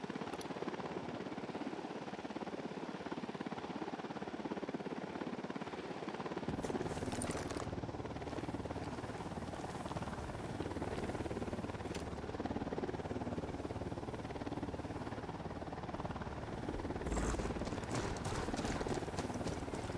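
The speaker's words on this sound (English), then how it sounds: "Helicopter incoming." A helicopter in Ghost Recon Wildlands, producing a continuous rapid rotor chop that runs steadily for the full twenty seconds, with a few sharp knocks partway through.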